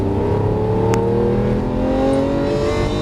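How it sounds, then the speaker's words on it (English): Lamborghini Aventador LP700-4 accelerating out of a left-hand turn, its engine a loud, steady, rising roar with smooth harmonic lines held throughout and no talk over it. "now accelerate out to the left"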